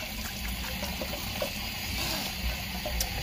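Water runs steadily from a tap into a sink during face washing in a shelter room, a constant close splashing hiss with no speech.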